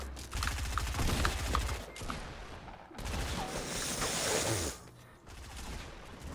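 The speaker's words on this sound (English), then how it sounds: "they got big guns" Heavy gunfire from big guns in Fortnite, loud sustained bursts and rattling volleys that break off and resume, filling the whole stretch with little talk.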